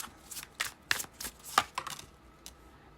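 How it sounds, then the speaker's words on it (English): Tarot cards rustle and snap as they are shuffled and pulled from a deck, a cluster of quick close crisp flicks and slaps in a quiet room, tapering to a last soft tap. "I'm gonna start with 3 cards from this deck."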